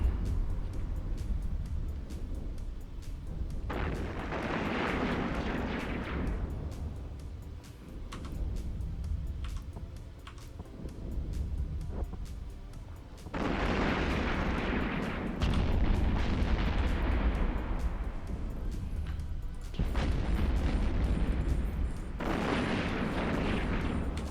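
Missiles launching and detonating in the space game EVE Online during carrier combat: loud, rumbling booming bursts that come in several long waves with short dips between them, sustained and heavy throughout, with no talking.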